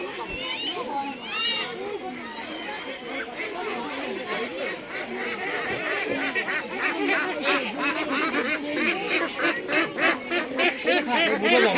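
A flock of ducks at an outdoor handout event quacks and honks in rapid, overlapping bursts that grow louder and busier, mixed with children and adults chattering nearby.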